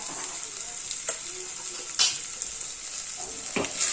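Red chili powder and black masala frying in a pan, a bright steady sizzle broken by several sharp scraping stir strokes, close and fairly loud.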